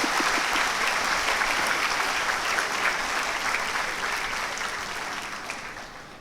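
Sustained, dense applause from a large audience at a university induction program fills the hall, steady and loud before gradually tapering off toward the end.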